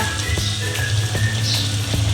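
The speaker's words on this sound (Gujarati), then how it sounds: "તો હવે આને આપણે તળવા દઈએ।" Aloo tikki potato patties fry in oil, giving a steady, close crackling sizzle that runs unbroken throughout with no voices.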